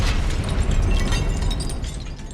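Stone statues shattering in Hogwarts Legacy, a loud, sustained crumbling burst with debris crackling throughout, no voices.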